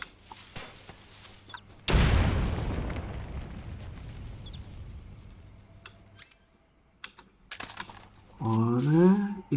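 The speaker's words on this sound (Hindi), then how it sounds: "एक बार ग्रेनेड्स उड़ा के देखें।" Grenade blasts in the video game Metal Gear Solid Snake Eater, during the Pain boss battle: a sudden loud boom with a long rumbling decay, then quieter game noises and a brief burst of other sound near the end.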